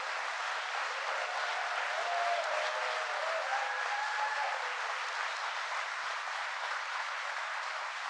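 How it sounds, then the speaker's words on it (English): Steady, dense applause from an audience at an IBM site event in Poughkeepsie honoring the site's workers, a continuous wash of clapping held at an even level for the full stretch. "give a round of applause to all of the people who work at the site"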